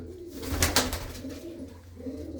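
Several large hen pigeons coo together inside a loft, low throaty calls repeating near and clear with a brief rustle in the middle.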